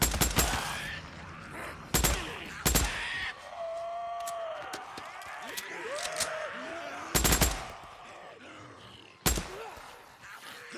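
Gunfire in the video game Days Gone: several sharp, loud shots ring out at irregular intervals over a busy game soundscape with faint cries and shifting tones between the bursts.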